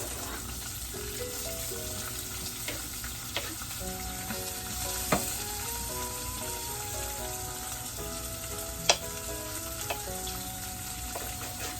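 Onion frying in a pan for a pan-fried chicken and rice pilaf dinner, a steady broadband sizzle running throughout with occasional stirring clicks and scrapes, close and moderately loud, no talking.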